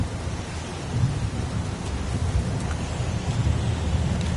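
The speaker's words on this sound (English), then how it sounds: "It's pouring rain." Heavy rain pours steadily in the video game Heavy Rain, a loud, dense wash of downpour with low rumbling thunder rolling beneath it throughout.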